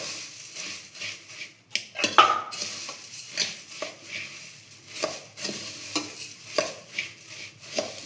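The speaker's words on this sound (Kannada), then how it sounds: "ಇಷ್ಟು ಹಾಕಿ ಮಿಕ್ಸ್ ಮಾಡ್ತಾ ಇದ್ದೀನಿ." A spoon stirs a tomato and coriander mixture in a pan in a hostel kitchen at night, giving irregular scraping and clinking strokes against the metal, close and moderately loud.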